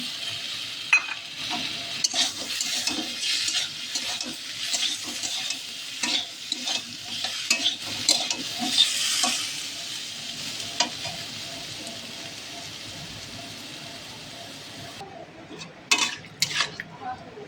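Aloo posto, potatoes with poppy seed and light spices, sizzles in a pan while a utensil stirs and scrapes against the metal in a steady, busy rhythm, with occasional clinks near the end.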